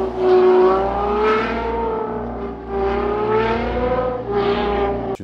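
Ferrari FF engine revving, a loud, close motor sound rising and falling in about four sweeping surges across several seconds, with no talk over it.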